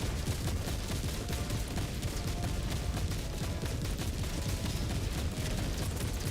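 Sustained rapid autocannon fire in Helldivers forms a dense, continuous roar of overlapping shots and blasts, loud and unbroken for the whole stretch with no talking.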